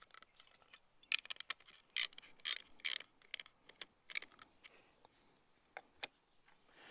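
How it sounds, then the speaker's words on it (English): A hand ratchet snugs down the nuts on a camper trailer battery master switch, giving quiet bursts of sharp clicks in short irregular runs with pauses between them. "you're more than fine here just using a normal ratchet and snugging these up firmly"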